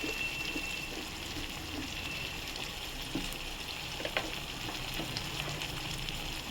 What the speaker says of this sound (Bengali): তো বন্ধুরা দেখুন আমার মশলাগুলো সব মোটামুটি ভাজা হয়ে গেছে